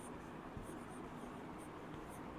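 Chalk or marker writing on a board in a classroom, a few faint scratchy strokes over quiet room noise, with no speech.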